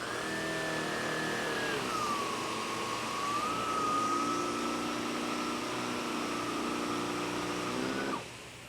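A Sebo ET-series powerhead vacuum runs on carpet with the height set too low, giving a steady close motor drone with a high whine that drops and settles before winding down at the end.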